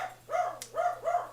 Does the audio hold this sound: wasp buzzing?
no